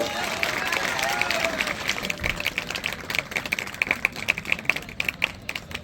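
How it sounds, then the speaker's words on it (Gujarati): Applause at a school farewell ceremony, many hands clapping in a lively crowd, with a voice over the start before the clapping grows sharper and more distinct. "પણ તાળીઓનો ગળગળાટ હોવો જોઈએ મિત્રો"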